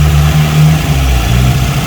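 A Suzuki Harrier engine with an RPM fault that makes it rise and fall and vibrate, running loud and close, its steady low drone swelling and dipping unevenly, with no talk over it.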